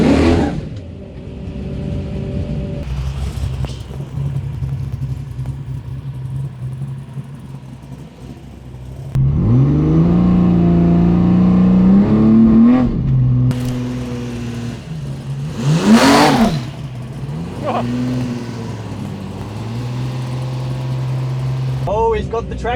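A Holden Torana car revs and accelerates in a no-prep drag race, its engine note climbing in loud surges between idling stretches, while people talk over it.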